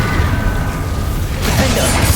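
A Confringo blasting spell explodes in the video game Hogwarts Legacy, heard as a loud, dense burst with a crackling, shattering rush in the second half over steady game noise.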